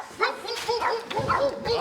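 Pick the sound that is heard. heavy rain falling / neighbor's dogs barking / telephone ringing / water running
neighbor's dogs barking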